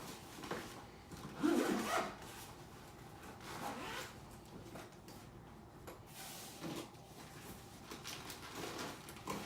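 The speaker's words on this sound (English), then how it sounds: "Zip that up." A zipper is pulled shut along a travel bag packed to fit under an airline seat, a rough burst of close zipping near the start followed by softer rustling and handling of the bag.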